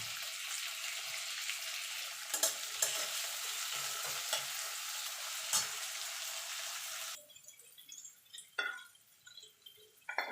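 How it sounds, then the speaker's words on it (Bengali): Tomato, onion and garlic fry in a pan for lentil dal, a steady close sizzle broken by a few scraping stirs, then fading to quieter scattered clinks and light stirring. "টমেটোটা দিয়ে একটুখানি নাড়াচাড়া করে নেব, টমেটোটা গলা পর্যন্ত।"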